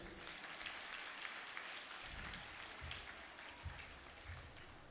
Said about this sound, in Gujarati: તાળીઓ વગાડો ભાઈ